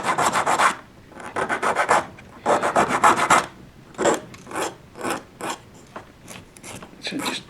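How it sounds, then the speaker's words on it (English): A hand file rasps back and forth over a small lump on model railway track, with short repeated strokes at an uneven rhythm, close and fairly loud. "you've got that bit of a lump there, so just file that back a bit"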